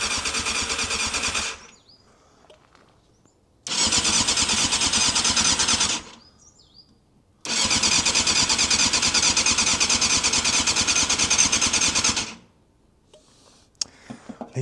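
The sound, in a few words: Yamaha Thundercat motorcycle engine starting after 13 years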